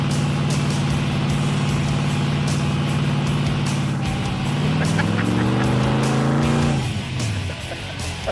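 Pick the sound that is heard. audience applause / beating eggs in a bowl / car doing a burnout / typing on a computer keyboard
car doing a burnout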